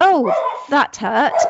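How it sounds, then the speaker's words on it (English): A dog's short yips and whining barks, close and loud, mixed with a person speaking at the same moment. "Sorry, that's the dog."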